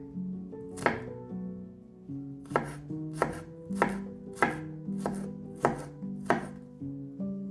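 A knife chops garlic cloves on a cutting board, giving about nine sharp, evenly spaced thuds close up over soft background music, with no talking.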